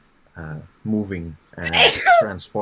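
A single sharp sneeze bursts out between stretches of a person speaking during an online storytelling session, loud and close against the surrounding talk.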